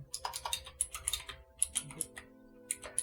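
Keys clatter on a computer keyboard during note-taking, recorded close in binaural audio, coming in uneven bursts of quick taps with short pauses between them, quiet and with no voice.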